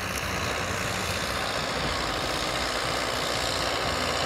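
A cold tractor engine revs steadily while pulling a Deltaplau tillage implement through a field, a loud, continuous low rumble with broadband mechanical noise and no talk.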